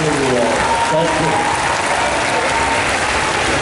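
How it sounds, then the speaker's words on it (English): An audience at a manga and pop-culture fan convention in Paris applauds for a guest, a dense, steady wash of clapping throughout, with crowd noise and voices underneath. "Applaudissez-le bien fort pour le remercier d'être venu répondre à vos questions aujourd'hui"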